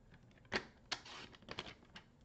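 Country gingham cardstock is trimmed for card making, giving a few short, sharp snips and cutting clicks at uneven intervals, close and fairly quiet, with no talking.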